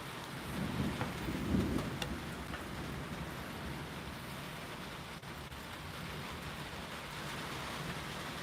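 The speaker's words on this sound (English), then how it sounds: "How long is this rain supposed to last?" Steady heavy rain pours throughout a thunderstorm, and a deep rumble of thunder rolls in during the first couple of seconds before the downpour continues alone.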